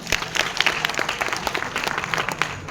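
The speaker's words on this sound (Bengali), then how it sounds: "এটার জন্য কি একটা হাততালি দেওয়া যায় না?" An audience at a corporate gathering applauds, a dense patter of many hands clapping fairly loudly and evenly throughout, with no talk over it.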